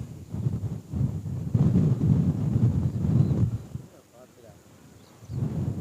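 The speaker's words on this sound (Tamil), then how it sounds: "நல்லா காற்றடிக்குதுண்டா" Strong wind buffets the microphone over a dry, waterless paddy field in Vaddukoddai, rumbling in heavy gusts that ease off briefly before surging again.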